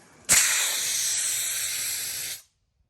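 Compressed air blows off a sandblasted steel truck hitch before powder coating, producing one loud, close, sustained hiss that lasts about two seconds and then cuts off abruptly.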